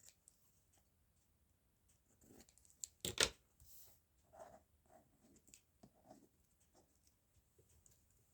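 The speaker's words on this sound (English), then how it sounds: "Just going to cut this out." Scissors cut out a paper craft made from trash. There are scattered quiet snips and rustles, with one sharper, louder cut near the middle, against near silence.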